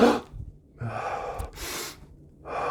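A person demonstrates startled breathing with several sharp, close gasping inhalations and breathy exhalations, separated by short silent pauses.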